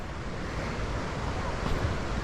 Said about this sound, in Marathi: समुद्राच्या लाटांचा आवाज भरपूर येतो आहे.